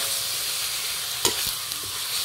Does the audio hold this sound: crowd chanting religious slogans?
no